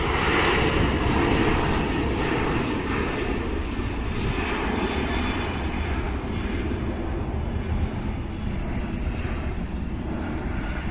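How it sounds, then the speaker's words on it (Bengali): A Sky Up Airlines Boeing 737 roars at Dhaka airport, a loud, steady jet engine rumble and whine that holds throughout without any talk. "আসছে স্কাই আপ এয়ারলাইন্সের বিমান। এটি এখন চেন্নাইয়ের উদ্দেশ্যে উড়ে যাচ্ছে,"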